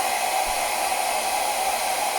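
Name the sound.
blow dryer drying acrylic paint on a painting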